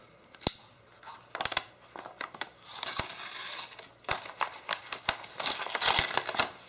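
Scissors snip and slice through a cardboard package holding a bird harness, with sharp clipped cuts, crinkling and tearing of packaging up close, no talk.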